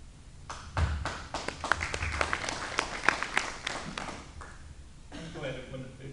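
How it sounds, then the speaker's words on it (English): An audience at a county sheriff candidates' debate in Laclede County breaks into applause that swells, carries on for several seconds and then fades, with voices talking over and after it. "I'm glad it went a big round of applause"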